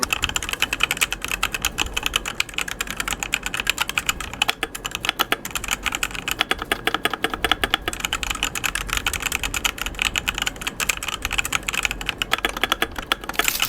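Steady rapid typing on a compact mechanical keyboard, a dense continuous clatter of keystrokes throughout with no voices.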